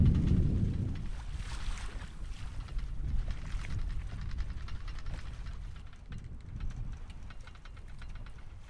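Sailboat tacking against the wind with the genoa out, heavy continuous wind rumble over the microphone and rushing water, loud and steady the whole time with no voices.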